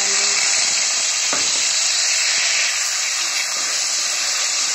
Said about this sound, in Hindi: लहसुन को थोड़ा सा भून लिया।